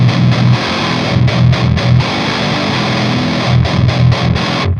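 Distorted Schecter C8 Evil Twin multi-scale 8-string guitar in its passive pickup voicing, playing heavy, fat low-end chugging riffs with short rhythmic stops, loud and up close before cutting off at the end.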